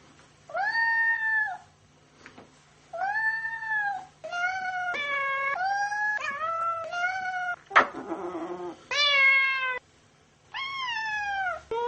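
A cat meows repeatedly while being cuddled, a series of loud, drawn-out wailing cries with short pauses between them, close and clear.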